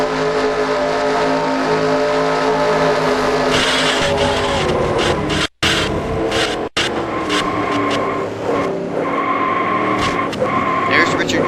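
Race car engine in a video game simulation of a Daytona race, a loud continuous roar with shifting pitch and brief tire squeal, two short sharp cutouts where the throttle lifts, running under a commentator's voice.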